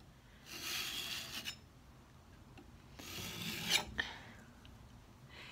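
Putty knife scraping and smoothing paint across a wooden nightstand top, two broad rasping swipes a few seconds apart with softer scrapes between, close and quiet with no talk.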